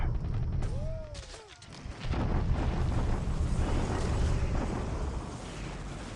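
Continuous artillery bombardment in a World War II strategy video game, a dense rumbling roar of overlapping blasts and booms with a brief dip before the barrage swells again and carries on steadily.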